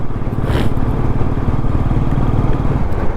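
Motorcycles riding on a road trip in Kerala, a loud, steady engine drone with rapid throbbing pulses from start to end and a faint rushing of wind over it.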